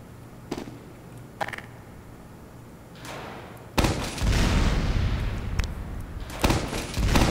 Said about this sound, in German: Ist die Explosion so groß?